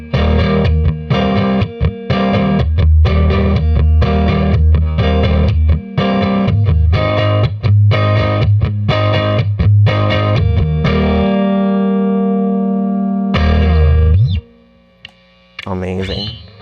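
A Jazzmaster electric guitar on its rhythm circuit, fitted with Alnico 2 pickups, plays rhythmic chords and picked notes through effects, loud and near, ending in sustained ringing tones and a brief pause.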